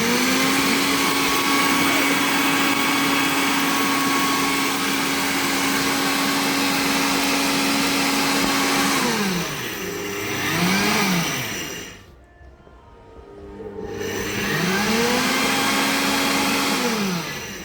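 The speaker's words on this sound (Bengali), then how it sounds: "এই হচ্ছে অটো পালস। দেখুন বিলাঞ্জার যতটুকু পাওয়ার দরকার ও নিবে আবার ছেড়ে দিবে" A Kiam 1500W steel blender motor on auto pulse, running steadily loud, then easing off, dropping briefly to near silence and revving back up, its pitch sliding down and up with each cycle.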